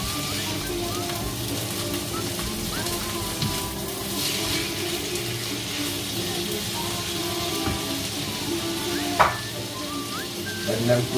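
Pre-cooked salt cod is stirred and fried in a pan for Portuguese bacalhau, a steady bubbling sizzle with occasional spoon clinks and scrapes, no speech heard.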